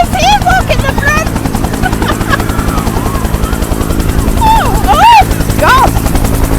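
A Vietnam War veteran Huey helicopter whose rotor thumps rapidly and loudly throughout in strong wind, while excited voices and children shout over it.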